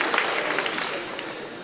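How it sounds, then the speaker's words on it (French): Applause from a comedy show audience, a brief dense burst of clapping that tapers slightly over under two seconds. "Très marrant de voir comme les applaudissements sont genrés, là."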